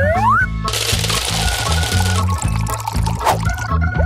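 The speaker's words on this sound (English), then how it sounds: "Sugar and water. Put it in a saucepan." Sugar and water poured into a saucepan, a bright hissing splash over a pulsing low rhythmic background, loud and close.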